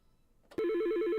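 An electronic telephone ring in a business phone system advertisement, a single warbling trill bursting in loud and close after a brief quiet moment.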